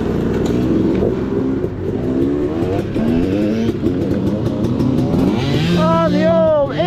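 An older motorcycle, ridden with a GoPro, roars steadily with engine revs rising and falling across the stretch, and a voice talks over the bike and rushing wind throughout.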